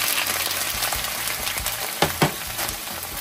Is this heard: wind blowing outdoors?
no